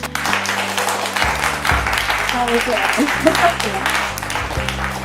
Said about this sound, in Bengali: টিম এর জন্য একটা হাততালি হয়ে যাক।